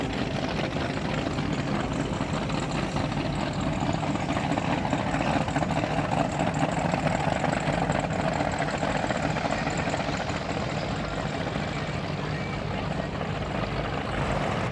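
A constant low rumble of boat engines idling at a powerboat parade in Lake Havasu fills the air, steady and unbroken throughout, fairly loud with no voices.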